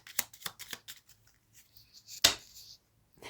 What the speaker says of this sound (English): You guys saw me shuffle these.